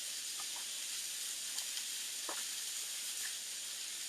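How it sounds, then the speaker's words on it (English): Sausage sautés on a griddle with a soft steady hiss and a few faint pops and crackles, quiet and unbroken by talk. "I'm just sauteing this up, y'all"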